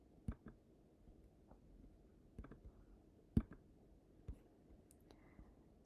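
Mouse clicks on a computer user interface: several sharp, isolated clicks spaced a second or so apart, one noticeably louder, against near silence with faint background hiss.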